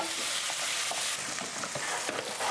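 Onions and curry leaves frying in oil, a steady broadband sizzle running throughout with a few brief stirring scrapes, close and fairly loud, with no talking.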